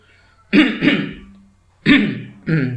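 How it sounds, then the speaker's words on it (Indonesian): Two pairs of harsh, close coughs, each burst quickly followed by a second, separated by a short quiet pause. "saya baru mandi hujan tadi jadi agak sedikit batuk-batuk"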